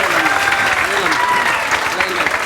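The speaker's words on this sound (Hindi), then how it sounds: "डबल तालियां, बहुत बढ़िया।" Audience applause at a gathering celebrating a husband and wife who landed government jobs, dense steady clapping filling the whole stretch with some voices mixed in.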